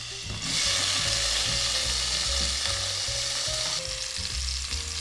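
Onions hitting a hot pan for Dahomey fish stew, a loud steady sizzle and crackle that starts abruptly and continues close up, with faint clinks of utensils stirring.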